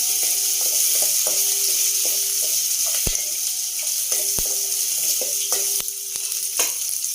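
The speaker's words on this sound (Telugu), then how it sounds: "ఉల్లిపాయలు వేగాలండి, కొంచెం వేగితే బాగుంటాయి." Onions frying in a pan for pepper rasam, a steady loud sizzle throughout with light scrapes and clinks of a utensil, no voices.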